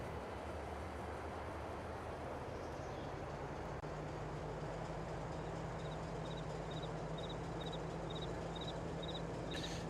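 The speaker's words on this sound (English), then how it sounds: "Now we can get back into our train and we can head back" A train in the Farming Simulator video game rolls along a track with a steady, continuous mechanical rumble and low hum, joined later by a faint run of evenly spaced light clicks.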